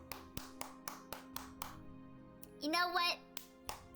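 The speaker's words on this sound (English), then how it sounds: "I clapped." Hands clap in a steady run of about eight sharp, close claps at an even rhythm, broken once by a short musical chime, with a child-like voice speaking briefly between them.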